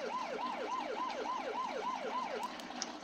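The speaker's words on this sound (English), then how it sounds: "Keypad 8 is yelp." Fire truck yelp siren in the Farming Simulator 17 video game, a fast, steady rising-and-falling electronic wail repeating about every half second, loud and continuous with no talk over it.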